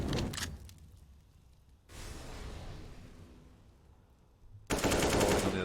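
Bursts of AK rifle fire in the video game CS:GO, a loud rapid volley opening, then a spell of quieter shooting and another dense burst at the end.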